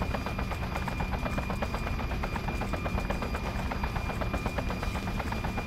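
Helicopter rotor chop and bursts of machine-gun fire from the video game Just Cause run together in a dense, continuous, fairly loud wash of combat noise, with no speech.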